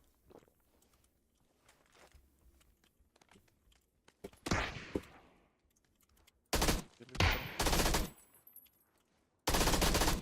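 Bursts of rapid automatic gunfire crack out in short volleys in a battle royale video game, separated by quieter stretches with faint footsteps and movement; loud, close shooting.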